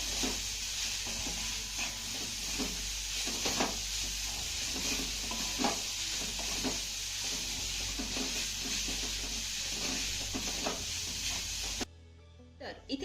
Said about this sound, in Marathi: हे सर्व साहित्य आपल्याला पुन्हा एक ते दोन मिनिटं चांगलं परतून घ्यायचं आहे